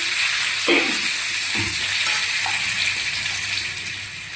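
A fried ingredient goes into a pan of ginger paste with a steady loud sizzle, a few soft stirring knocks breaking through before the frying noise eases slightly at the end.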